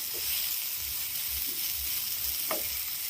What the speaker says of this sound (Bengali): আর একটু আমি ভালো করে নেড়ে চেড়ে নেব, কালারটা যাতে আর একটুখানি চেঞ্জ হয়ে যায়